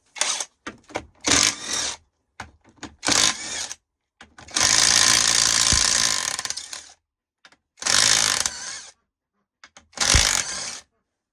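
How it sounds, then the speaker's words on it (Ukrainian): Bolts being unscrewed around a ZAZ Forza / Chery Amulet gearbox casing with a 13 mm socket: bursts of ratcheting and clattering metal work, several separate close passes with pauses between, a longer spell in the middle, no talk. "Головкою на 13 розкручуємо всі болтики по кругу."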